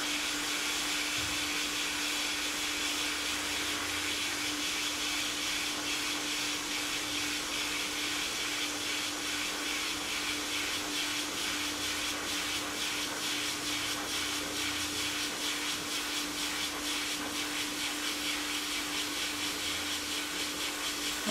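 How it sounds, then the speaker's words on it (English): Fusion Plus hot air plastic welder working a headlight repair with a plastic rod, a steady, fairly quiet blowing hiss and whir that runs unbroken with no talking. "Just let the rod do the work as the hot air strikes the plastic, creating fusion."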